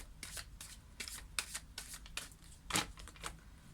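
Tarot oracle cards being shuffled and drawn, a run of crisp papery riffles and flicks at an irregular rhythm, close up and fairly quiet, with no talking over them.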